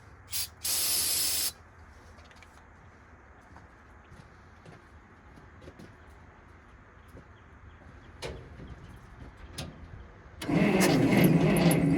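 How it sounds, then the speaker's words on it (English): A Bantam truck crane, left sitting in a quarry for years, cranks on a jump pack with weak power: a brief harsh burst early on, a long lull, then sustained loud cranking at the end. "Definitely not getting nearly as good of cranking power as yesterday."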